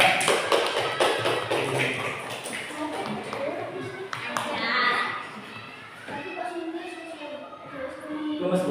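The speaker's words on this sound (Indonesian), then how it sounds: "Tepuk tangan untuk kelompok 3." Children in an Indonesian classroom clap for a group of classmates, a patter of hand taps mixed with kids' chatter and an adult voice talking over them.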